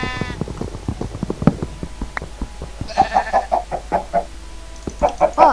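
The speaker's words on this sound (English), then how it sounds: "So much sheep." Sheep in a Minecraft game bleat repeatedly in short, loud, wavering calls, clustered together near the end, over a steady run of clicks and game sounds.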